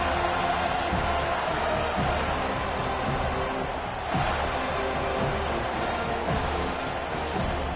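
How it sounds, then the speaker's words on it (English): A packed football stadium crowd roars continuously after a touchdown, a dense, loud, sustained wall of cheering and noise with occasional sharper peaks, no voices standing out above it. "This crowd, full throat, splitting the eardrums"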